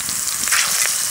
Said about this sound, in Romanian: Și acum să prăjim vinetele.